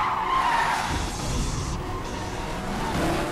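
A truck skids in a horror-film chase, a sustained tire squeal with engine noise running loud and unbroken throughout, no voices.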